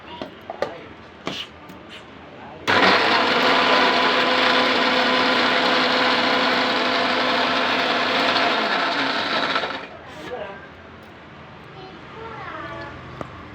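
A kitchen mixer grinds raw ginger chutney with a little water, a loud steady whirring drone for about seven seconds that winds down at the end, with talk before and after.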